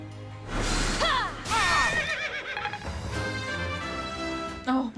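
Horses neigh in the video game Fire Emblem: Three Houses, two loud whinnies near the start followed by a lower, shorter neigh near the end over low battle rumble.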